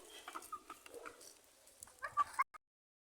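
Chickens clucking on a small Philippine farm pen kept alongside ducks and turkeys, a series of short soft clucks and squawks heard close and fairly faint, ending abruptly.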